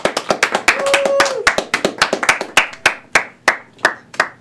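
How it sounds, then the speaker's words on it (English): A small group claps in a scattered, uneven rhythm, the sharp hand claps close and loud, with a brief voice sounding partway through, then thinning to slower isolated claps near the end. "Round of applause."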